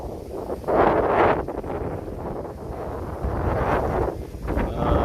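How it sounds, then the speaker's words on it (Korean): Strong typhoon wind roars through shaking trees, a dense rushing blast that swells and eases in gusts, close and loud, with leaves and branches thrashing. "태풍 빙빙의 영향으로 흔들리는 나무들"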